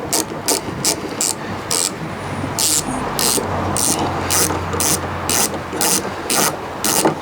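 Posidrive screwdriver backing a small screw out of a caravan fridge gas valve, with loud, close ratcheting clicks repeating in an even rhythm over steady background noise.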